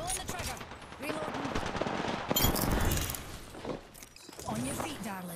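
Rapid gunfire rattles in Apex Legends, bursts of automatic shots and sharp impacts packed close together, loud and dense, with a player talking over the shooting.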